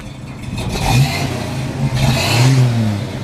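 A 1952 Chevrolet 3100 pickup with a stock exhaust runs close by, its engine rising in two short revs over a steady low idle, with no talk.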